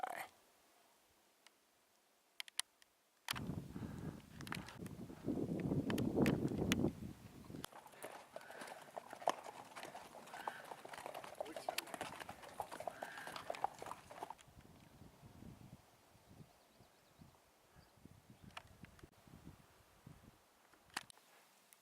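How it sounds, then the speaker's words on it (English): Group of horses walking past on a hiking trail in Bryce Canyon National Park, a run of clip-clop hoofbeats on dirt and rock, close and fairly faint, fading off toward the end. "A group of horses came by, but turns out there's two groups."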